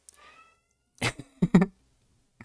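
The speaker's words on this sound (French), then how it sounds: "Oh, le chat!" A cat gives a short meow, then a few brief vocal bursts follow, close and clear against near silence, with a faint sound at the very end.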